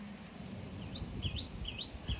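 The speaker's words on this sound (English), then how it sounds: "The birds chirping." Birds chirp outdoors among trees, repeated bright rising calls from a few birds, faint and moderately distant over a soft breezy hush.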